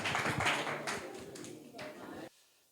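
Audience applause in a school quiz gathering, greeting a correct answer from a student; a dense, steady patter of many hands clapping at moderate volume for about two seconds before cutting off abruptly.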